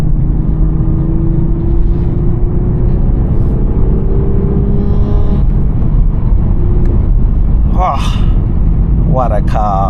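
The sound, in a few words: 2024 Toyota GR Supra manual engine while driving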